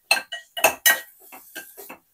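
A utensil stirs shredded chicken in a cooking pot for baby soup, giving a handful of quick metallic clinks and scrapes close by, with no talking.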